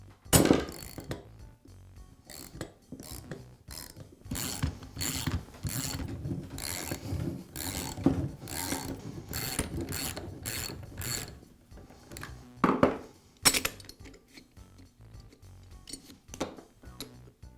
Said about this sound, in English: And now I'll remove the nose piece from the gun.